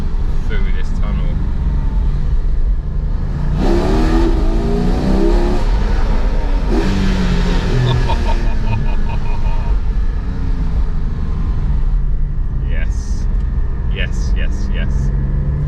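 A Porsche 718 Cayman GT4 with PDK gearbox drives through a tunnel, its engine a loud, continuous rumble with rising revving surges echoing off the walls, heard from inside the car with occasional speech over it.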